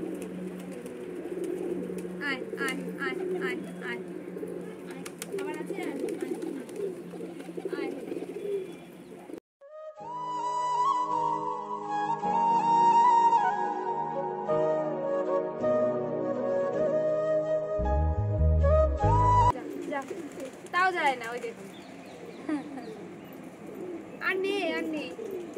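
Domestic and foreign pigeons on a rooftop farm give soft repeated cooing nearby, with voices talking over it and a stretch of music in the middle.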